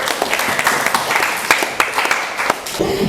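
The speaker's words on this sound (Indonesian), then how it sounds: "Luar biasa, tepuk tangan dulu." A classroom group claps after a student presentation on recycling waste, with distinct, close hand claps popping out over a busy bed of lighter clapping and murmuring.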